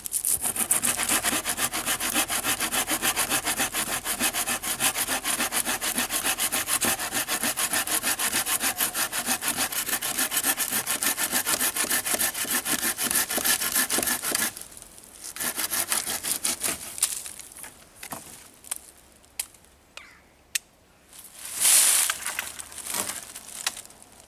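A folding bushcraft mini saw, one that cuts on both push and pull strokes, rasps steadily through wood in fast rhythmic strokes for about fifteen seconds, then slows into a few scattered, broken cuts and rustles.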